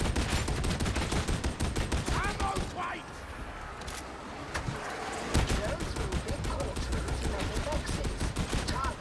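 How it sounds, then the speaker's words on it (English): Continuous rapid gunfire from an Ogryn's gun in Warhammer 40,000: Darktide, a dense, relentless stream of loud close shots that barely pauses, with game noises and brief voices mixed in. "I don't think I've stopped firing this gun in like 5 minutes"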